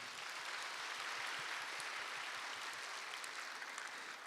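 A church congregation at Sunday morning worship applauds to welcome new members, a dense, even, sustained wash of clapping heard at a low, somewhat distant level without pause.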